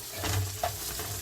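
Cabbage and tinned mackerel being stirred in a frying pot, a close, gentle sizzle with soft scraping strokes of a utensil and a brief clink, without talk.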